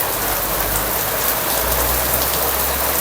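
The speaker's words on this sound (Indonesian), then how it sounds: "ternyata hujannya deras banget" Heavy rain pouring steadily near a bus stop by a roadside, a loud, continuous hiss of downpour with a low background rumble and no pauses.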